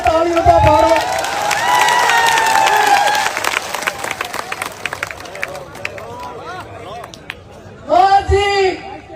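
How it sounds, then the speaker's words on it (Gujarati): A crowd at a Thakor community gathering claps and cheers in a loud, dense burst, fading into scattered claps, with a voice speaking over it and a second swell of applause near the end. "તાળીઓ તો પાડો."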